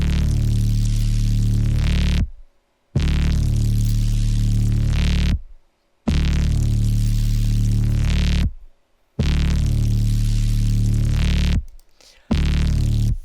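A heavily distorted, noisy synthesized sound shaped with the Spiff transient processor, in the style of Mick Gordon's DOOM sound design, repeats five times as dense roaring blasts about two seconds long with abrupt silent gaps between them.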